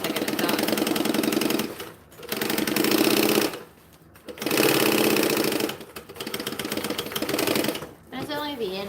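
A sewing machine stitches the fiddly seam of a bag in loud, fast, rattling runs of about two seconds each, separated by brief stops, with a short bit of talk at the very end.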